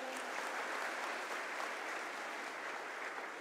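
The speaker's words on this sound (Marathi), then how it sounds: "त्यांच्यासाठी एकदा जोरदार टाळ्या होत्या." Sustained, loud applause from an audience at a Guru Purnima festival organised by the Chhatrapati Pratishthan, a dense steady wash of many hands clapping throughout with no speech.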